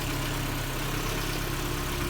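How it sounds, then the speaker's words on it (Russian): A Lada Priora engine idles steadily after a hydraulic lifter ticking fault, a close continuous low hum without talk. "Мотор работает уже 8 минут."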